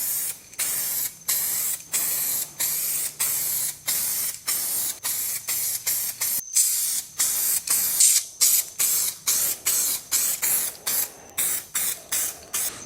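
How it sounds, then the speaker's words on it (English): An aerosol can sprays primer over a rusty car bumper in close, loud hissing bursts, each roughly half a second long, repeated steadily with brief breaks in between. "So let's spray this out."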